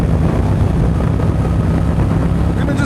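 Motorcycle nicknamed Black Betty, freshly fueled, riding along on a morning outing: a steady, loud, low engine drone with constant wind rush, no break in the noise and no talking.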